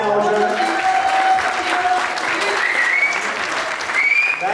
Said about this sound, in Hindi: शानू जी के जोरदार तालियां हो जाए.